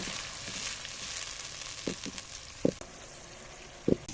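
Onion paste fries with whole spices for Lahori murgh cholay, a soft, even sizzle with a few low thuds and scrapes from stirring.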